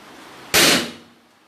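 A single firecracker bursts during a Radha Ashtami katha house gathering in Rudrapur: one loud, sharp bang with a hissing tail that fades over about half a second.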